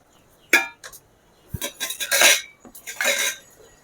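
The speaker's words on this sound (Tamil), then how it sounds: "நல்லா கட்டி இல்லாமல் ஒன்றா மிக்ஸ் பண்ணிக்கணும் அது கூட இந்த மிளகாய்த்தூள்" Rice flour and gram flour batter for chicken pakoda, with chilli powder added, mixed in a metal bowl with a spoon, giving sharp clinks and a run of scraping strokes that come in uneven bursts.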